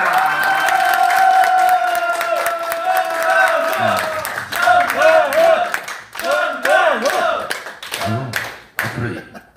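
A crowd at an outdoor press conference claps and cheers loudly, with dense rhythmic clapping and shouts rising in bursts, while a voice over a loudspeaker talks at the start.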